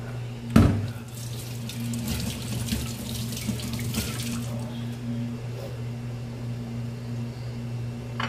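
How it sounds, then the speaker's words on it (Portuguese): A kitchen tap runs while hands are washed at the sink during cooking, a steady hiss of water with splashing, starting with a clunk, alongside a constant low appliance hum. "Deixa eu lavar aqui minha mão."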